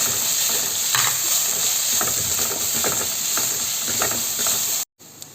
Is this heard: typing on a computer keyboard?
no